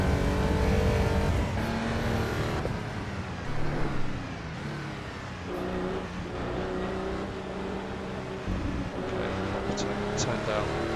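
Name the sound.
car engine audio inside car in video game Assetto Corsa EVO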